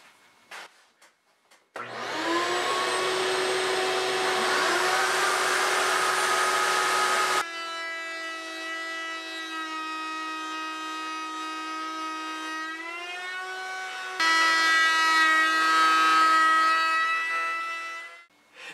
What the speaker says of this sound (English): now I can trim it up at the router table, and I've got my shop vac clamped on to collect some of the sawdust